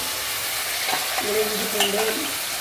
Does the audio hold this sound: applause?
no